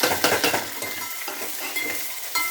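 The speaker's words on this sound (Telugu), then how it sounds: "ఉల్లిపాయలు, పచ్చిమిరకాయలు కూడా వేస్తున్నానండి తాలింపులో" Onions and green chillies dropped into hot oil for a tempering, a close, busy sizzle with a few stirring scrapes, loud at first and settling slightly over the short stretch.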